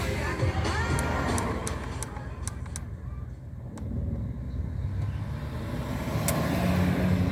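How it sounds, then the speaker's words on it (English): Inside a car stuck in city traffic, a continuous low engine and road rumble fills the cabin, steady throughout with faint passing vehicle noise and no talking. "I'm in the car right now, stuck in traffic, but it looks like they're about to move now."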